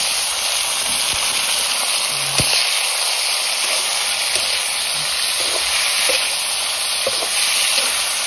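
Pork frying in oil in a pan with salt, a loud, dense, continuous sizzle and hiss close up, with occasional faint stirring clicks and no voices.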